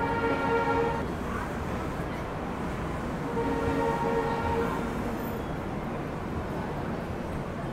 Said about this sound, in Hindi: इन्हीं रूट्स में चलती है मीटर गेज ट्रेन